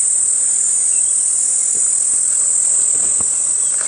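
Cicadas drone in a continuous high, shrill buzz on a morning safari drive at Djuma Game Reserve, steady and loud throughout, with faint scattered ticks beneath and no talk.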